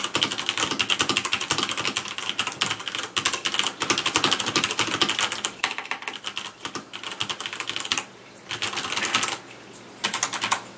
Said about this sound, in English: So here, I'm going to type a little sentence.